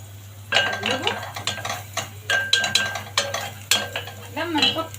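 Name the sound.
stirring onions in a cooking pot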